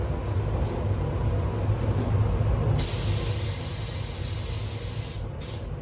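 A spray gun lays a coat of paint onto a Mitsubishi Colt CZT during a respray, a steady low hiss that bursts into a loud, bright continuous spray midway and cuts out briefly near the end.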